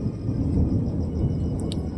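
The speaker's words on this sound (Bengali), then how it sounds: "দেখেন মেঘ ডাকছে কেমন" Thunder rolls during night rain as a loud, sustained low rumble that fills the whole stretch, with faint background hiss and a couple of small high ticks near the end.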